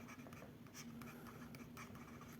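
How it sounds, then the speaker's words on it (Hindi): Quick scratchy strokes of writing on a classroom board come in a brief, faint run of rubbing and tapping over a low background hum. "मैं आप लिख देता हूँ एक बार"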